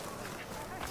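A bird in the video game Horizon Forbidden West gives a brief, harsh quacking squawk, heard over a dense, noisy game soundscape.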